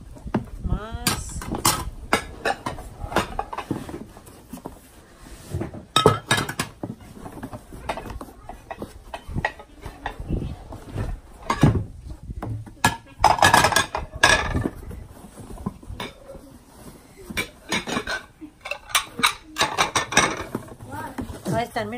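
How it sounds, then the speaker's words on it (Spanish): Plates, spoons and forks clink and clatter as they are lifted out of boxes in a storage unit, sharp irregular chinks coming in bursts under a voice talking throughout. "Cucharas, tenedores y de todo un poquito. Más cucharas. Platito. Más platos."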